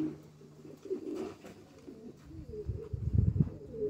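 White homing pigeons returning after a toss at a pigeon show coo in soft, low, throaty bursts that swell louder and rougher toward the end, close by with no talking.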